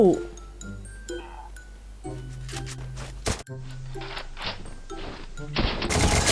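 Free Fire battle gunfire, sharp shots and clattering bursts ringing out among in-game chimes and clinks, building to a dense noisy burst at the end, with someone talking over it.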